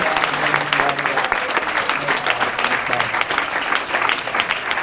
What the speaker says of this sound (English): can we give all 3 of these guys a round of applause?